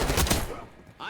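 Gunfire in a first-person shooter video game, a short burst of loud, close shots fading into a brief lull before another hit at the end.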